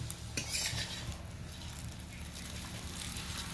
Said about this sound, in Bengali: এইভাবে হালকা একটু চেপে দিতে হবে খুন্তির সাহায্যে